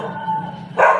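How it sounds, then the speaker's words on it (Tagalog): A large dog gives one short bark near the end, clear but brief, over a quiet background with a faint steady hum. "May aso dito."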